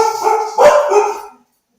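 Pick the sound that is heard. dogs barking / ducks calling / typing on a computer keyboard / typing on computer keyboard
dogs barking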